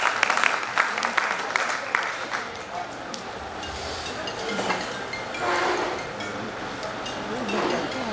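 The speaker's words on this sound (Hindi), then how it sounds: "तो जोरदार तालियां हमारे इतने टैलेंटेड मेंबर्स के लिए" Audience applause at a Founders Day celebration, crisp clapping strongest in the first couple of seconds, then thinning into a murmur of crowd noise and clinks as people talk.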